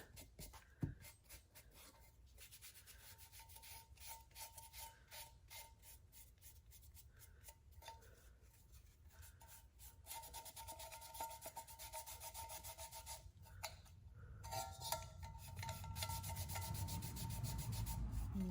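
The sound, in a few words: distressing painted wood furniture by rubbing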